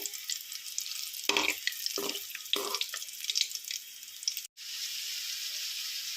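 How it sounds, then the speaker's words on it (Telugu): Country eggs frying in oil in a pan, a loud steady sizzle broken by a few bursts of scraping, then a brief gap before the hiss resumes. "గుడ్లు అయితే ఇలాగా నూనెలో వేసి వేయించుకోవాలండి"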